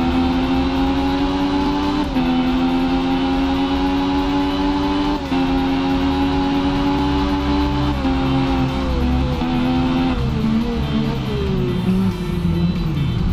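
Motorcycle engine in the racing game RIDE holds a steady, loud drone throughout, its pitch climbing and dipping slightly with throttle changes and easing down near the end as the bike slows.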